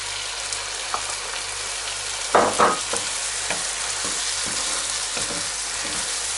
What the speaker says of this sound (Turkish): Salçamızı da 1-2 dakika kavuralım.